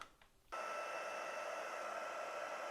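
Hair dryer blowing to dry watercolor paint on a Christmas card, switching on abruptly after a brief quiet moment and then running as a steady, loud whooshing whir.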